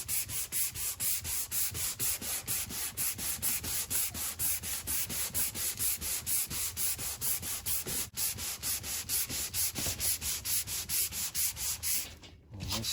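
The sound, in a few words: sanding Corvette front-end paint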